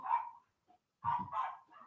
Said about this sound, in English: that's a neighbour's dog